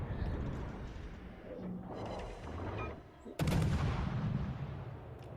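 Heavy naval guns of the warship San Diego firing in the naval game World of Warships: Legends, rumbling booms under continuous battle noise, with a sharp loud volley near the end.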